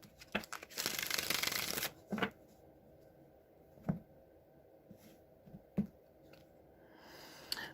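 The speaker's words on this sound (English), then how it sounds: "I'm going to do one more shuffle" A deck of tarot cards is riffled and shuffled close to the mic in a quick burst, followed by soft handling taps and card clicks, with no talk.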